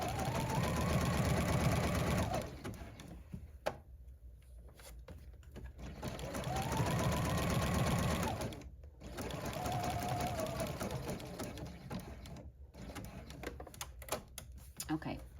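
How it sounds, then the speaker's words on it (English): A sewing machine stitches a zigzag along satin binding on a stretch fleece blanket topper, sounding as steady rapid mechanical runs that stop and restart, with a voice talking throughout. "we're going to sew a zigzag all the way to the edge of the blanket"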